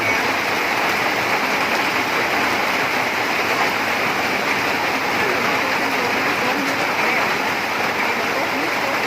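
Heavy rain pours steadily in a highland bamboo-shoot foraging area, a loud, unbroken hiss of falling water with no breaks, while someone talks underneath.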